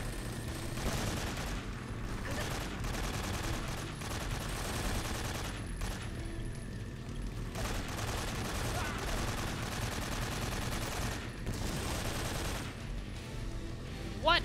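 Bursts of gunfire in the video game Metal Gear Solid 3: Snake Eater recur through a dense, loud battle soundscape, with rapid shots and heavy rumbling continuing almost without pause.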